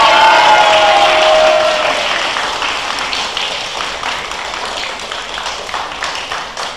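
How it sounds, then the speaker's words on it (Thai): Close, loud group applause with cheering from volunteers on a trip to Bang Pu, sustained clapping and a few shouts that gradually soften. "ปรบมือตัวเองหน่อย"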